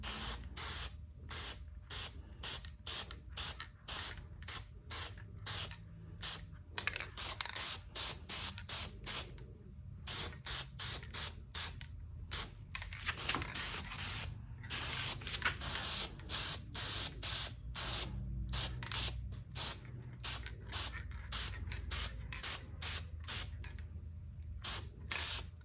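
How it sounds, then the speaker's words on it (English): Repeated short hissing bursts of a spray can of black paint, dozens of quick sprays in a steady uneven rhythm, close and fairly loud, with no talking. "we're just going to lightly spray some black paint there"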